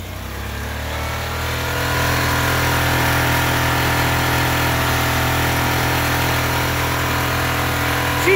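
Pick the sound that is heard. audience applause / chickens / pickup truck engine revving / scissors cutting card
pickup truck engine revving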